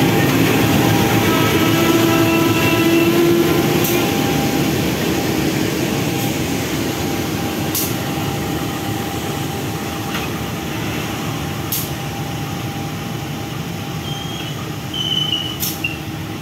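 A passenger train hauled by a CC203 diesel locomotive rumbles through a station in a steady, loud, continuous roar with occasional sharp metallic clanks, fading slightly over time.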